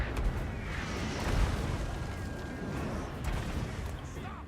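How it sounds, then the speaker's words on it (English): Mortar and artillery fire in the Total War: Empire strategy game, a dense rumbling barrage of repeated booms and bursts that runs steadily throughout, with battlefield noise filling the background. "We'll let those mortars stop firing in a second."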